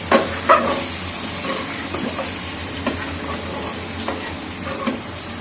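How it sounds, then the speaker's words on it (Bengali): Turmeric and a little salt fry in a hot pan over raised heat, giving a steady loud sizzle broken by the scrape and clatter of stirring, with no voices. "এখন আমি এটা চুলাটা বাড়িয়ে দিয়ে লাল লাল করে ভেজে তাড়াতাড়ি উঠিয়ে ফেলবো"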